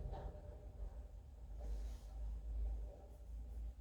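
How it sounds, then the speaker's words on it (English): Wind gusting outdoors, a low rumbling roar that swells and fades in uneven surges, fairly faint and with no voices. "the wind really blew up just then"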